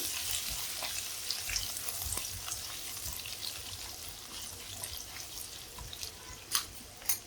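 Chopped ginger fries with cashews in oil in a pan while making broken-wheat upma, a steady, soft sizzle with a few faint clinks of stirring near the end.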